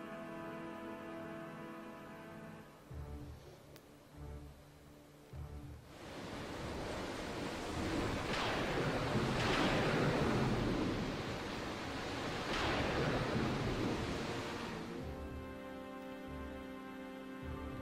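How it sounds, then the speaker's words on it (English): Raging sea waves roar in the intro of the Final Fantasy video game, a loud, broad surging surf that swells and crashes for several seconds between calmer musical passages. "The sea raged."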